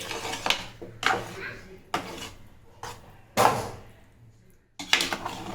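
Venn pongal is stirred in a pot simmering on a low stove flame, the ladle knocking and scraping against the vessel in about six distinct, irregular clacks with quiet gaps between them, close and fairly loud.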